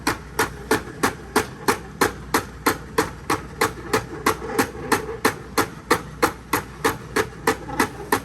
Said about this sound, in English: The gears start like locking up and popping.